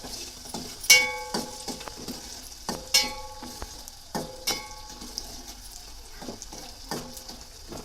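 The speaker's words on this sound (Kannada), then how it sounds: "ತುಪ್ಪದಲ್ಲಿ ಕರಿಬೇಕು ಇದನ್ನು" Edible gum (antu) frying in hot ghee in a pan, with a soft sizzle under repeated metallic clinks and scrapes of a spoon stirring against the pan.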